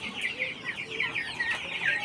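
Local cross-breed hens cluck and murmur at a poultry farm house, a quiet scatter of short overlapping clucks from several birds close by, with no talking.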